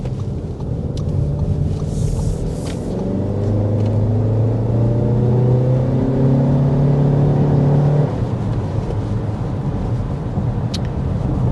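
A 2025 Audi Q3 SUV accelerating hard, its engine note climbing steadily in pitch through the gears for about eight seconds before easing off, heard loud from inside the cabin with wind and road rumble underneath.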